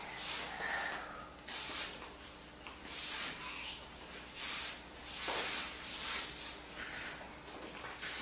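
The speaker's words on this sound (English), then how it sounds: "I'm going to spray it" Hairspray sprayed in about seven short hissing bursts, evenly spaced with brief pauses between, close and fairly loud.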